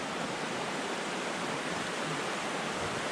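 Stream water rushes steadily over a trail crossing, a dense even hiss of flowing water with no breaks, fairly close and alone.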